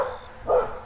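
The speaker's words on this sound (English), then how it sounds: "Hopefully the dogs will quiet down a little bit here for a while." A dog at a scrapyard gives a single short bark, moderately close, following a fainter earlier yelp, with no talking.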